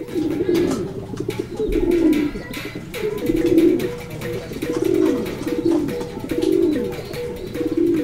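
A racing pigeon coos repeatedly in low, rolling phrases, steady and close, with a faint background hum.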